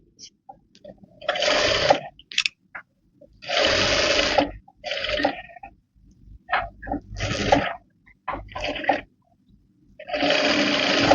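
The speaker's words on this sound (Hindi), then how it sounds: "यहाँ पे जो फैब्रिक कट किया था उसको इस तरीके से आधा इंच का फोल्ड करते हुए सिलाई लगा लेंगे।" Sewing machine stitching a half-inch folded fabric hem on a summer top, with several loud, close stitching runs of one to two seconds each, separated by short pauses and small clicks.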